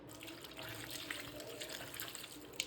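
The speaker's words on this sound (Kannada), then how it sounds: "ಅದಕ್ಕೆ ಸ್ವಲ್ಪ ನೀರು ಹಾಕುವ" Water poured into a pan of jackfruit curry, a faint, steady splashing trickle lasting a couple of seconds, with no voices.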